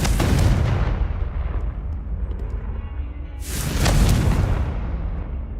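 A Confringo explosive spell cast in the video game Hogwarts Legacy, heard as two loud booming blasts, each with a long rumbling decay, up close and with no talk.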